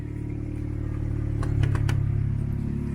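A locked Audi A3 (8V) idles with its engine running, a low steady hum that builds slightly midway, broken by a few quick clicks.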